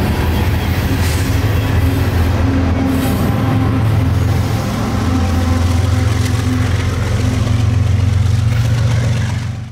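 Coal train NO41 passes with a DPU engine pushing at the rear on its run through Florida. A loud, continuous low diesel rumble sits under the steady rolling roar of railcars and faint clicking wheels.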